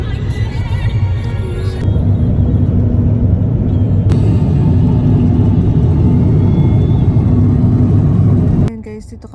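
A car cruising on a long cross-country highway drive from Florida to California, a loud steady road and engine rumble that runs continuously before cutting off near the end.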